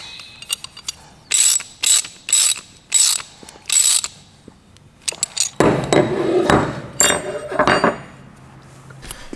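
Hose adapter fittings for an Audi S3 boost gauge are wrapped with thread tape and threaded together, giving a run of rhythmic ratcheting rasps followed by denser clinking and scraping of the parts, close up.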